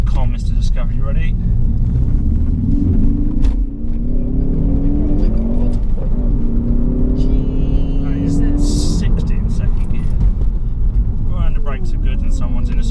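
A Ford Focus ST hot hatch accelerating on the road, its engine droning and rising in pitch under constant loud cabin rumble, with people talking over it.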